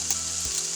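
Halved Brussels sprouts sizzle cut side down in a covered pan over medium-high heat, a brief steady hiss of frying at low volume, heard alone.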